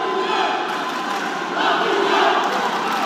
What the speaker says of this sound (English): the fans trying to rally the boxer that they are cheering for in what is an absolutely raucous atmosphere here at the Chayed Arena in Nice